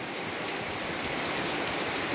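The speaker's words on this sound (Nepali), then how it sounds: "हाम्रोतिर चाहिँ यस्तो ठुलो बाक्लो पानी पर्दैछ" Heavy rain pouring outside a house in the Darjeeling hills, a dense, steady hiss of drops drumming on surfaces with no pauses, loud and close throughout.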